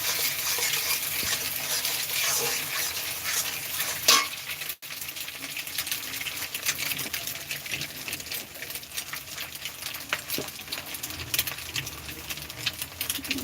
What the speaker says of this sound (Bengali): ভালো করে দেখো মশলাটা কেমন কষানো হচ্ছে